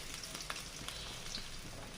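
Chopped onions frying in a pan with chopped chilies for a Bengali fish bhuna, a soft continuous sizzle with faint crackles and small pops, quiet and close.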